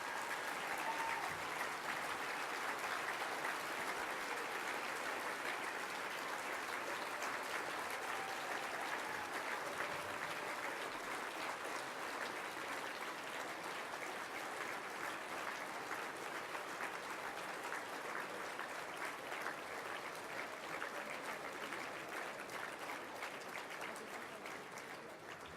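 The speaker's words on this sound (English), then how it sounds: "I would like for you, please, to give a round of applause for the blue collar industry" Sustained audience applause at a 2019 Top 50 CEO of the Year awards event, a dense, even roar of many clapping hands lasting around twenty-five seconds and tapering slightly at the end.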